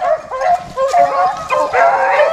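Rabbit-hunting hounds bay continuously while running a rabbit in a swamp, a chorus of overlapping howls and yips, fairly close and loud, with a voice mixed in.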